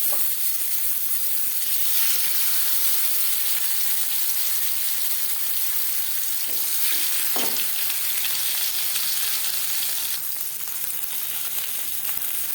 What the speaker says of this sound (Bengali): চার চামচ রিফাইন্ড অয়েল গরম করে নিয়েছি এবার দিয়ে দেবো মাছ